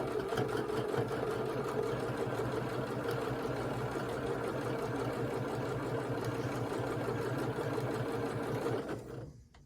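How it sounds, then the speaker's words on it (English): A sewing machine stitches a Friendship Star quilt block in one steady, fast, continuous run close by, with no voices, then slows and stops at the very end. "We'll keep sewing."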